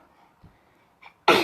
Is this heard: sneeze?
yes